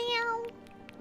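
A cat in a video game lets out one short, clear meow, followed by a few faint clicks in a quiet room.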